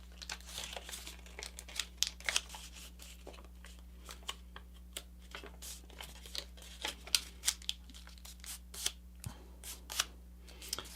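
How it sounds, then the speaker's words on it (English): A sheet of paper is flipped and folded into a paper airplane, giving close, quiet crinkles, rustles and sharp creasing snaps in irregular bursts over a faint steady hum. "I'll go ahead and flip the paper over and do it on the other side as well"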